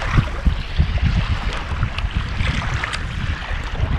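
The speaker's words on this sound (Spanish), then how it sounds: "Está ventoso, ventoso, ventoso." Gusty wind over a choppy lake heard from a fishing boat, a loud uneven rushing buffet with low thumps and splashy texture rising and falling throughout.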